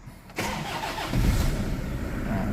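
A Toyota Vigo 2.5-litre intercooled pickup starts quickly with a brief crank and catches, then settles into a steady, close diesel idle with a slight rise in revs.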